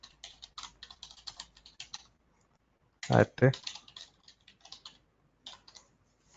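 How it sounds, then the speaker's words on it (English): Quick bursts of clicky keystrokes on a computer keyboard while entering a user ID, irregular light tapping with pauses, interrupted by a brief spoken word. "So I'm just typing another user ID"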